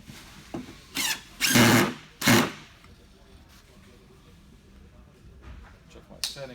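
A power drill fitted with a Phillips number 3 bit drives screws into the legs of a Uline Rubbermaid cart. Three short, loud whirring bursts, the middle one longest, are followed by quieter handling noises.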